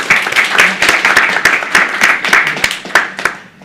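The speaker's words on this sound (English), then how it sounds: "Some round of applause, maybe." A festival audience applauds to welcome a panel, with dense, steady hand clapping from many people, sharp individual claps popping out through the roar for several seconds before it thins toward the end.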